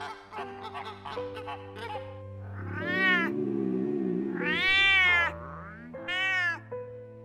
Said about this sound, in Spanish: Hay un gatito allá afuera.